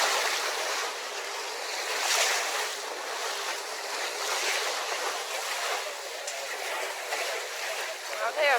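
Ocean waves wash and surge around a boat out dolphin and whale watching, a steady broadband rush that swells and eases throughout, with excited voices and high whistles mixed in over the water noise.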